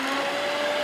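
Steady, loud motor whine of a mixer attachment slicing potatoes into French fries, a continuous high-pitched hum with no pauses.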